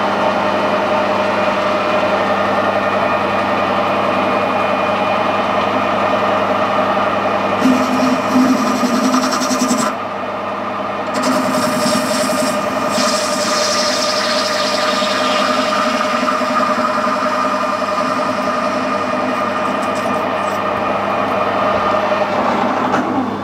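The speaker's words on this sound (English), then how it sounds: "We'll skim the end up, centre drill it, get a drill fluid and then bore it out to size." A lathe machines 316 stainless steel, skimming the end, centre drilling and boring a bore, with a steady loud machine drone and tonal whine running throughout and a brief change in cutting sound partway through.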